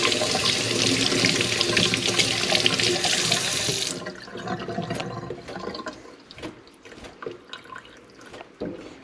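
Kitchen tap running hard over rainbow trout being rinsed, a loud steady rush that cuts off after about four seconds, leaving quieter drips and handling noises.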